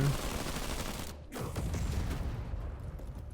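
Dense gunfire in the strategy game Zephon, a continuous rattling barrage with mechanical clatter that briefly drops out before resuming at steady loudness.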